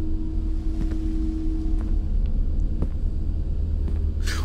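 A low, steady storm rumble from the horror video game MADiSON fills the scene, with faint creaks and a hiss rising at the very end, no talking.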